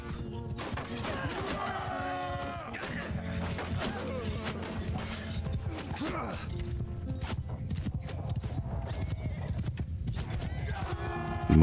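Hoofbeats clatter and horses whinny amid clashing weapons in a Roman-themed battle in Mount & Blade II Bannerlord, dense and continuous under a speaking voice.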